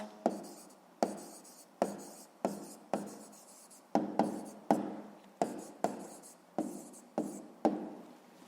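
A pen writes a math answer by hand on paper, a quick series of about a dozen close, rhythmic scratching strokes, each fading briefly before the next, with no talk.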